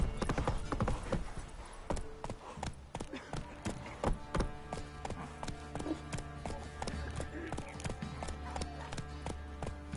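Horse hooves clip-clop steadily in the video game Witcher 3, a close, even trot of sharp knocks continuing throughout over a game soundscape, with people talking over it.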